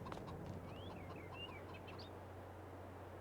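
Chickens clucking around a coop in Farming Simulator 22, a few short chirpy calls over a steady low hum of farm ambience, moderately quiet throughout.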